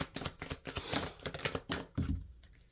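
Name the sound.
oracle cards being shuffled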